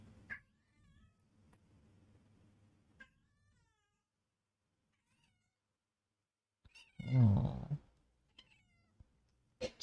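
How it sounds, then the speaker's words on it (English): A cat meows and caterwauls loudly up close in one strong burst, after quieter scattered sounds and faint background noise, with a brief spoken word nearby. "kitty"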